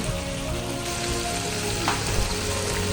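Tofu pan-frying with peppers in a hot pan, a steady close sizzle and crackle of oil with light scraping from stirring, continuous and fairly loud, with no talking.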